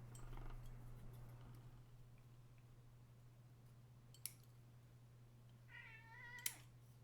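A cat gives a single short meow near the end of an otherwise quiet indoor scene, with a faint steady hum underneath and a couple of small clicks.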